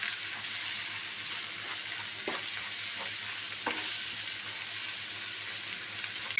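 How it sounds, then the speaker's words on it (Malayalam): Beaten egg is scrambled and stirred in a frying pan, a soft sizzle running throughout with a few scraping strokes of the spatula, close but fairly quiet. "മുട്ടയൊക്കെ നന്നായിട്ട് ചിക്കി എടുത്തിട്ടുണ്ട്."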